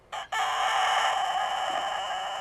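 A Denizli rooster lets out one loud, near crow. It begins with a brief note, breaks off for a moment, then holds a long sustained tone that tapers slightly. No voices are heard.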